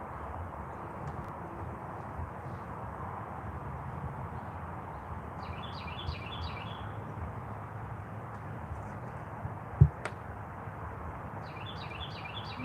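A bird outdoors repeats a quick series of high, rapid chirps twice, fairly faint over a steady low background hum, with a single sharp knock in between and no voices.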